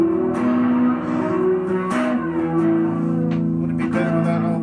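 A heavily distorted guitar plays sustained, ringing chords with a gritty effects-unit tone during a live local performance of a song, loud and steady with reverb and no voice.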